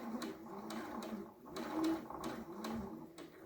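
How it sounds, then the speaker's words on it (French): A sewing machine stitches along a marked line about 2 mm from the fabric edge, needle set far left, while sewing a dress or blouse; a steady run of rapid mechanical pulses with periodic sharp clicks, close and fairly loud, no talk. "en mettant votre aiguille la plus à gauche possible, vous coudrez à 2 mm du bord de ce trait"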